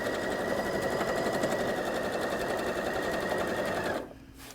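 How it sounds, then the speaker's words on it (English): A sewing machine topstitching fabric for an outdoor pillow runs in a steady, fast, close mechanical whir for about four seconds, then stops abruptly, leaving quiet room tone. "just top stitching that down, this time with thread in the needle"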